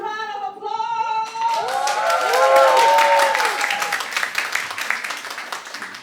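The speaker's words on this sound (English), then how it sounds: "Let's give them another huge round of applause!" An audience applauding after a drag showgirl performance at a Pride event, clapping swelling under a loud voice and continuing steadily at moderate distance.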